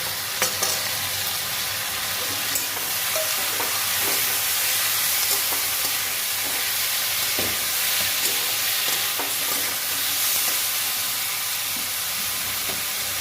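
Ginger paste, salt, turmeric, chilli, cumin and coriander sautéing in a pan for a dal and pumpkin-stem curry, a loud continuous sizzle and hiss with occasional spoon scrapes and stirring clicks throughout, no talking.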